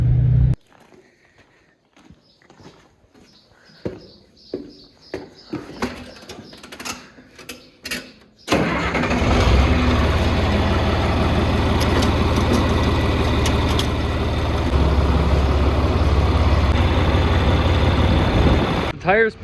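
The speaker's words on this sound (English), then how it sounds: "I'm going to take Aiden's pickup down to the neighbors and grab another wagon" A farm pickup truck starts after a stretch of quiet clicks and handling noises, then its engine settles into a loud, steady, close idle that runs uninterrupted to the end.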